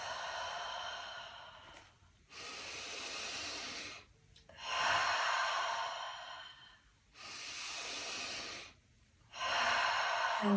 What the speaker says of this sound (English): Breathing up through the belly, up into the chest and out the mouth.